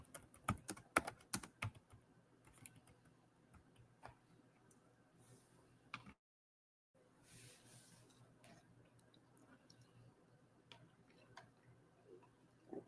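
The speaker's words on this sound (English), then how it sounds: "I'm typing, y'all." Rapid clicking of fingers typing on a computer keyboard, busiest and loudest at the start, then lighter scattered keystrokes continuing after a brief dead-silent gap, close but fairly quiet.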